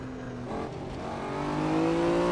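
An 80s or 90s supercar accelerating hard in low gear on a drag strip, its engine note climbing steadily and loudly from close range, strong and alone.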